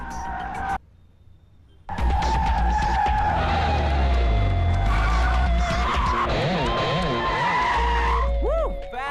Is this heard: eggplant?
no